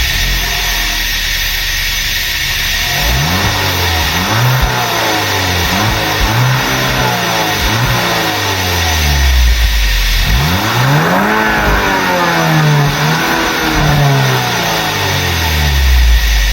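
A 2012 Volkswagen Passat B7 with a 2-litre EA113 engine and stock exhaust cranks and starts, then gives several rising revs that climb and fall back to idle, close and loud with no talk.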